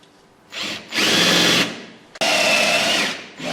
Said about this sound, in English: This is a 1 inch Forster bit. I'll drill down about the depth of this,